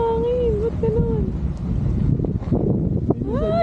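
Wind buffets the microphone while parasailing high above the sea at Boracay, a steady rushing roar under excited voices talking and exclaiming throughout.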